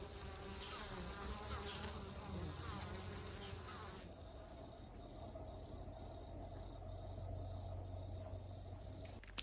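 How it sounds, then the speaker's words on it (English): Honeybees buzz steadily among flowers on a remote Japanese island in mild winter weather, a dense continuous drone of many insects nearby with no voices. "our honeybees out, who were busy hurrying from flower to flower collecting pollen"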